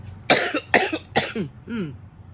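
Several harsh coughs in quick succession, close and loud, tapering into a final weaker rasping cough.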